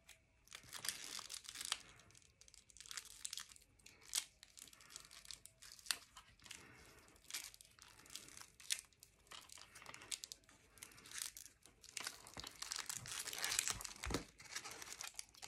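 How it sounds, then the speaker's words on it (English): Paper crinkling and tape rustling as a single layer of a paper flower is taped on, with scattered close crackles and short tearing sounds throughout. "there's a single layer, and then we just tape that on."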